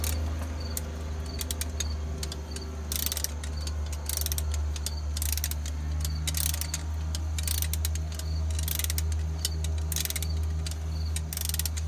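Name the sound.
torque wrench ratcheting on Detroit Diesel 671 injector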